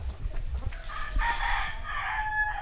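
A rooster crows, a fairly loud drawn-out cock-a-doodle-doo rising over low background rumble and faint clucking, lasting most of the stretch.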